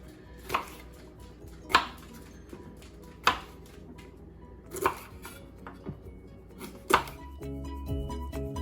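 A knife chops peppers on a cutting board in five or six sharp, evenly spaced thuds about a second apart, close and distinct over a quiet room.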